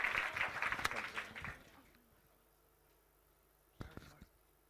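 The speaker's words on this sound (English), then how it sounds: "Please give them a huge round of applause." Audience applause for a conference panel at a women in games event, a dense burst of clapping for about a second and a half that fades into quiet, followed by a couple of faint isolated claps.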